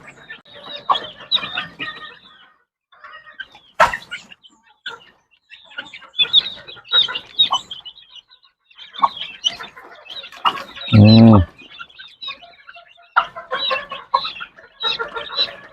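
Chicks and chickens cluck and chatter in short, busy bursts with brief pauses. One loud, harsh squawk stands out near the end, with no voices.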